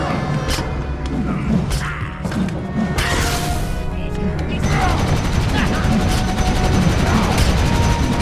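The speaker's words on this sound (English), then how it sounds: "he's got a little machine gun move there" Rapid machine-gun fire from a combat ability in the game Wildstar, loud bursts of crackling shots and thuds layered over game effects, with a voice talking over parts of it.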